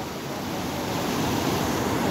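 Strongly flowing river water rushes across a forest ford in Jim Corbett Park as a car crosses, a dense, steady roar at moderate level with no pauses.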